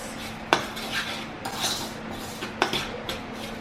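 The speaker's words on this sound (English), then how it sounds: "And you just want to mix it and whisk it around." A cinnamon and brown sugar mixture being whisked in a bowl for a peach cobbler pound cake topping, with close metallic clinks and scrapes of utensil against the bowl at irregular intervals, no voices.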